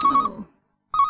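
A landline telephone rings in a 1993 PG Tips chimp television advert, with two short electronic ring bursts separated by a gap of silence.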